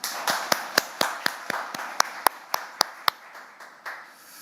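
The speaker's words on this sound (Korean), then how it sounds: "서로 박수 한번 크게 치면서 시작하시죠." Journalists at a press event with the National Assembly speaker clap together, a small group producing sharp, distinct claps over a softer spread of applause, close and fairly loud, thinning out toward the end.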